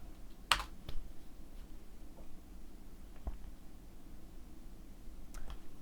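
Keys on a computer keyboard are tapped in sparse, isolated clicks, close and quiet, with one sharper keystroke near the start and a few light taps spread across a hushed room.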